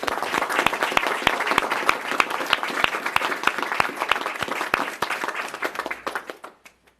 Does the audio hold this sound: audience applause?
yes